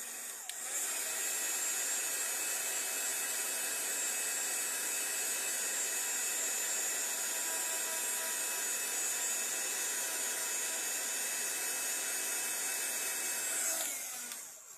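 A heat tool blows a steady, hissing, high-pitched stream of hot air at craft embellishments, held close and even for about fourteen seconds before switching off at the end.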